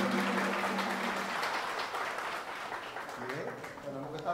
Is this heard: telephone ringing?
no